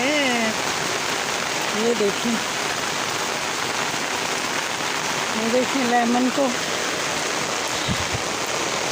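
Heavy rain pours steadily onto surfaces as a dense, continuous hiss, with a voice talking over it in bursts and a brief knock near the end.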